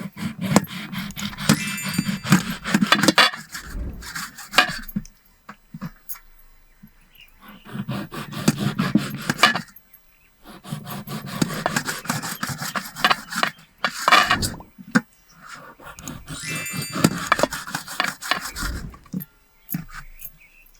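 A knife cuts washed guava into small pieces, close up, as repeated rasping, scraping strokes in several bursts separated by brief quiet gaps, with no talking.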